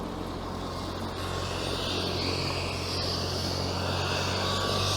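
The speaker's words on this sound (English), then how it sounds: "oh look, there's a helicopter." A helicopter warming up and taking off near bike trails, a steady loud rotor and turbine drone that builds slightly in strength throughout, heard from fairly close.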